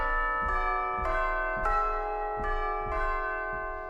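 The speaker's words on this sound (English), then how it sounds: "the chimes, also known as tubular bells, are like your church bell kind of sound" Tubular bells (orchestral chimes) struck repeatedly at a steady pace, each bright metallic strike ringing on with long overlapping resonance, close and clear.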